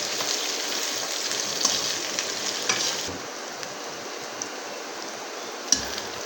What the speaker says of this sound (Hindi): अब हम इसमें प्याज ब्राउन करेंगे, थोड़ा सा हल्का सा लाइट ब्राउन।